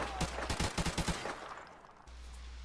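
An AK-74U firing in Modern Warfare Remastered: a quick burst of about seven punchy automatic shots in rapid rhythm, then a fading tail and quiet game ambience.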